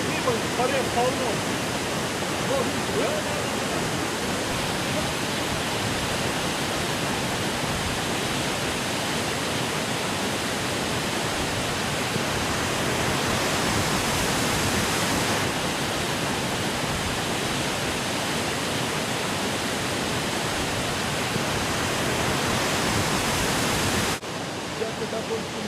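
A fast-flowing river rushes through mountain countryside in Tajikistan, making a loud, steady, close roar of churning water that continues unbroken before cutting off abruptly near the end.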